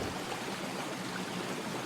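Splashing waterfall for a children's story, a steady broadband wash of falling water, close and continuous with no talk over it.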